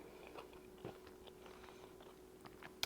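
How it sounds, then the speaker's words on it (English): Crunching of sugar on an apple king cake made with Danish-style dough and cinnamon, heard as a few faint, close chewing crunches spread irregularly, with a sharper click at the end. "The sugar is what you're hearing me crunch on."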